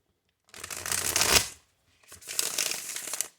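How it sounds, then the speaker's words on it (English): Tarot cards are shuffled close up in two distinct bursts of crisp riffling and flapping, separated by a brief silent pause, with no talking. "We're going to do one more shuffle."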